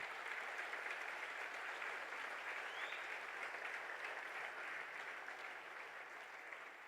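A church congregation at a Portuguese-language celebration service claps together, a dense, even wash of applause that sounds somewhat distant and fades slightly near the end.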